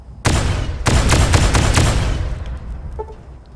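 Automated turret in Fallout New Vegas (Old World Blues) opens fire in loud, rapid bursts of gunfire lasting about two seconds, then trails off into a short electronic beep.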